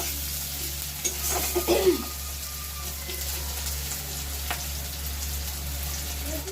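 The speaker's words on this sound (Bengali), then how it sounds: "পেঁয়াজটাকে একটু ভালো করে ভেজে নেব।" Chopped onions sizzle steadily in a hot pan while being fried and stirred for a loitta shutki curry with potato and eggplant, with a few louder stirring scrapes early on over a constant frying hiss.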